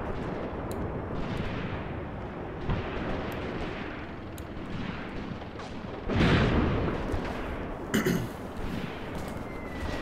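Gunfire and explosions in the WWII tactics game Graviteam Tactics: Mius Front, a continuous rumble of distant shots with a louder, heavier burst of fire near the middle.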